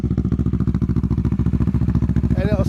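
A modified Kawasaki Vulcan 650 S motorcycle engine chugs loudly at close range with a rapid, steady pulsing rhythm, idling rough and lumpy, with a voice briefly at the end.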